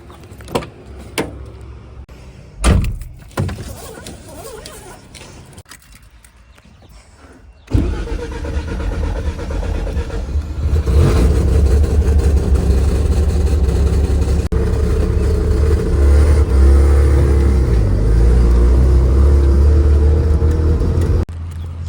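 A car engine cranks and catches after a few quiet clicks and knocks, then idles steadily and revs a little louder, running close by for the rest.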